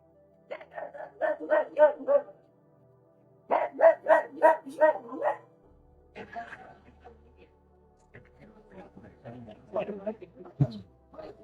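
A dog barks in rapid bursts of five or six sharp yaps, with pauses between them, close by, and a voice speaks in the gaps.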